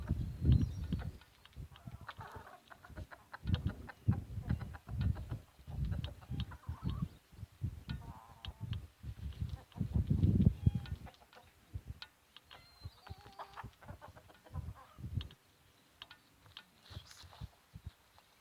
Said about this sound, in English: chickens are very happy